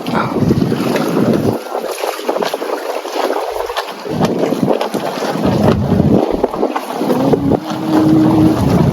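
A motorboat (bangka) engine drones steadily on open water off Mindoro, mixed with heavy wind buffeting the microphone and splashing spray.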